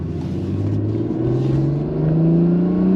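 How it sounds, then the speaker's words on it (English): An Acura NSX supercar with a 9-speed dual-clutch transmission accelerates hard, its engine note rising steadily and loud, close by, with quick smooth gear changes. "On throttle, here we go! Very, very smooth, very fast shifts from that 9-speed dual clutch transmission."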